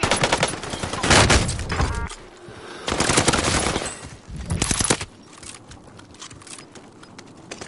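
Bursts of automatic gunfire and fusillades in a shooter video game, loud rapid volleys in several clusters with brief gaps between them.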